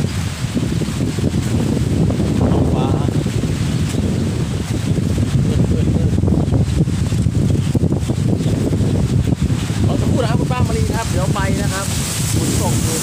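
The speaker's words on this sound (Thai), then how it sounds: "ลมแรงมากเลย" Strong storm wind buffets the microphone in a loud, continuous roar, while a voice speaks briefly near the end.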